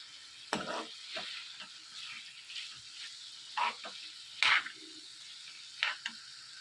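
A spoon scrapes and stirs through eggplant tomato curry with chili powder in a pan in several distinct bursts, with a soft sizzle underneath and no talking.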